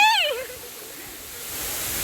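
Steady broadband rush of a waterfall at Didupe Falls, heard from a distance. A brief voice and whistle-like tone sound at the very start and fade as the water noise continues.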